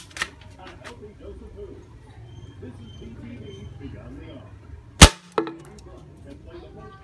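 A pellet gun fires once at a plastic bottle, a single sharp loud crack about two-thirds through, followed by a smaller impact-like snap, over low background murmur.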